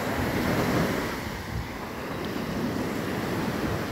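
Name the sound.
ocean waves at the seashore after typhoon Tino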